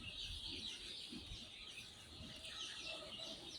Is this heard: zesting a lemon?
no